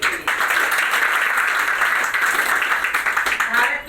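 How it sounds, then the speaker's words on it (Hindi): Audience applause at a Vestige network marketing gathering, dense sustained clapping from a crowd that carries steadily for several seconds, fairly loud and close throughout. "एक जोरदार ताली T3 के लिए।"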